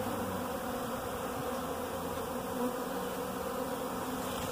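Honey bees swarm and buzz around a hive, a dense, steady drone of many wings close by that holds unbroken throughout without any voices.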